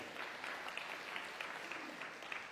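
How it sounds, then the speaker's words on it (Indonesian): A church congregation at a Sunday service applauds steadily, a moderate wash of clapping holding at an even level for a few seconds without anyone speaking over it. "Kasih tepuk tangan saudaraku"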